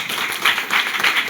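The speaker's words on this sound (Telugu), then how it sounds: "ఒకసారి వాళ్ళకి క్లాప్స్ కొట్టండి" An audience claps for teachers at a speech gathering, a dense, steady patter of many hands over a bit more than a second, fairly loud and close.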